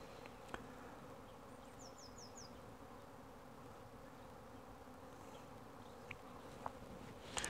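A steady, low drone of many honeybees buzzing around hives, continuous and soft, with a few faint clicks and distant chirps.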